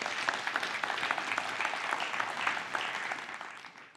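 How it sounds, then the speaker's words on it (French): Audience at a disability summit plenary session applauds steadily, a dense patter of many hands clapping that continues for several seconds before fading out. "S'il vous plaît, une bonne main d'applaudissements pour tous ces gens-là."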